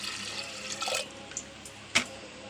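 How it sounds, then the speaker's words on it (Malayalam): Water poured over washed lentils in a pot for sambar, a soft splashing rush that is strongest at first, then thins into light trickles with a brief clink near the end. "പാകത്തിന് വെള്ളം ഒഴിക്കണം."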